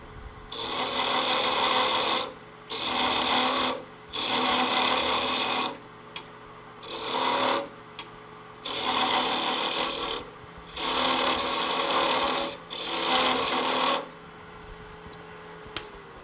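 A wood lathe turns a half-inch tenon on a wooden workpiece: about six loud, rasping cutting passes of one to two seconds each, separated by short gaps where only the motor hum continues.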